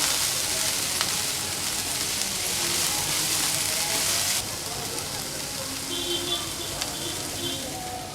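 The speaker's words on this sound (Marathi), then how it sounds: "व्यवस्थित परतायची आपल्याला कारली कांद्यामध्ये" Karela (bitter gourd) stir-fried with onions in a pan gives a steady, fairly loud broadband sizzle with faint stirring scrapes, easing a little midway through.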